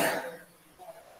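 A single short cough at the start in a classroom, then a faint quiet room with a brief murmur afterward.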